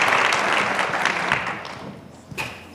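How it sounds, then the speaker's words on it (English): Audience applause at a United Nations global forum on gender statistics, a dense burst of clapping from a large room that fades out over about two seconds, with a few scattered claps near the end. "So I think we all deserve a round of applause for"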